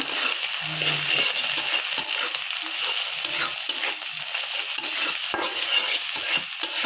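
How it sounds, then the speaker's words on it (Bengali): A spatula scrapes and stirs noodles with spices in a frying pan, a continuous close sizzle with rhythmic scraping strokes and no talking. "এবার আমি দেবো নাড়াচাড়া।"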